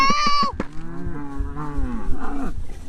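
Cows mooing in a field, with a long, drawn-out, loud low moo that bends in pitch, preceded by a brief higher call, close and clear with no speech over it.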